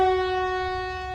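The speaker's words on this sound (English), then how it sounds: "That's just a horn." An emergency alert alarm horn blares one sustained, harmonically rich tone, loud and steady before easing slightly toward the end.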